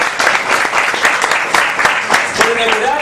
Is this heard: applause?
yes